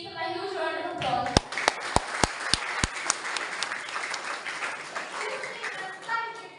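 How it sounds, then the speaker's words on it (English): At an inter-school English elocution event, an audience greets the chief guest with a few sharp, separate handclaps that swell into a fuller burst of applause. Voices speak before and after the clapping. "Please give him a huge round of applause."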